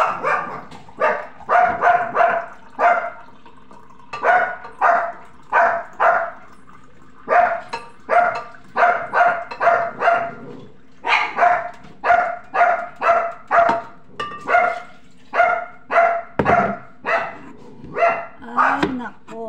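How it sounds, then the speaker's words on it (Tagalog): Two dogs bark repeatedly at close range in quick, uneven bursts, loud and nearly continuous across the whole stretch, with brief gaps between volleys. "Barkada na naman ang dalawang aso."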